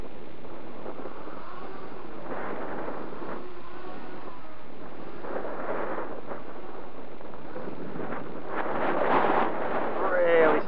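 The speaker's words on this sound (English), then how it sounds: "Strong wind." Strong wind buffets the microphone of a BFight X210 FPV drone in flight, a continuous loud rumbling roar with gusty swells that grow stronger near the end.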